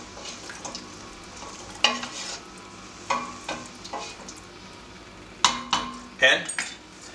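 Gravy for New Orleans roast beef po'boys is swished around in a pot, with metal clinks and scraping knocks at intervals over a faint simmering background.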